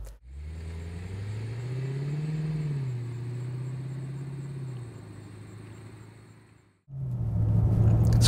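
A Lexus IS-F car engine revs up under acceleration, a smooth rising and falling mid-pitched drone close and strong, fading briefly before a louder rumbling surge returns at the end.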